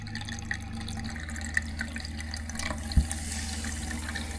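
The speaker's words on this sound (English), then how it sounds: "So now I'm going to run the faucet until I smell a little bit of bleach." Water runs steadily from a travel trailer faucet during de-winterizing, a continuous, fairly quiet splashing stream with a brief louder splash near the three-second mark and no talk.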